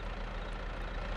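Tractor engine idling in Farming Simulator 22 while being parked, a steady low rumble that holds even and continuous without talk.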